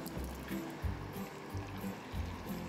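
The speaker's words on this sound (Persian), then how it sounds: "یک کم در دیگه آب اضافه میشه" Water is poured into a pot of turmeric soup, a low, steady gurgling fill with uneven splashy pulses in a quiet kitchen.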